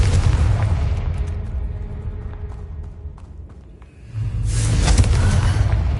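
A Confringo blasting spell explodes in the Hogwarts Legacy video game, a loud, rumbling blast that fades into a dip about four seconds in before a second heavy boom rolls in.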